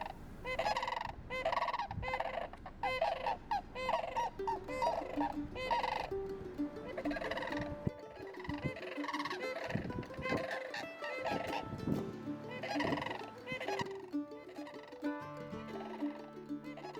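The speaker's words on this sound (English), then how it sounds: "All the squabbling, courting, and endless talking about whatever sandhill cranes talk about." A flock of sandhill cranes in a field among cattle, calling continuously with loud rolling, bugling trills that overlap and chatter in dense bursts, close and lively throughout.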